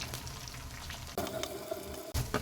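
Cauliflower pieces for Cauliflower 65 fry in hot oil with curry leaves, a close bubbling sizzle interrupted twice by abrupt shifts as the pieces are moved, with no one speaking.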